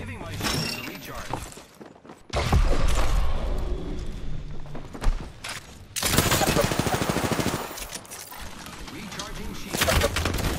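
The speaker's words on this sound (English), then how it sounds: "I am taking fire, friends." Gunfire during an Apex Legends match, with bursts of rapid automatic shots, sharp cracks and shattering impacts coming in loud clusters and separated by brief lulls, mixed with voices and game sounds.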